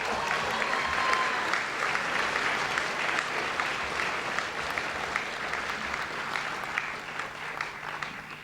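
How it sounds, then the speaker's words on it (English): Sustained applause from an audience at a high school senior awards ceremony, a dense even wash of clapping that holds steady throughout and thins slightly near the end. "Please join me in a round of applause in recognition of all of our scholarship and award recipients."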